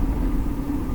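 Vehicle engine rumbling steadily on a mountain pass descent while downshifting, a close, continuous mid-pitched drone with no talk over it.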